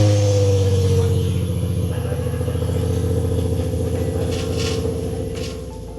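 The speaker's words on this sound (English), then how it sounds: "let's turn that key and hear this baby start up" A Nissan 350Z engine, unused for months, rumbles at idle just after starting up, a steady close low drone with faint clatter.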